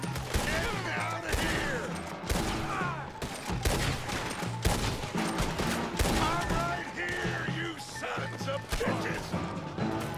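Gunfire during a town shootout in Red Dead Redemption 2 on PC, dense rapid shots and impacts crackling throughout amid crashes and game ambience, loud and continuous.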